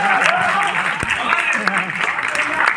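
Audience at a Hindi kavi sammelan poetry gathering in Gonda clapping in a steady wash of applause, heard beneath someone speaking loudly.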